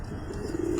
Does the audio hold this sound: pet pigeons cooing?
yes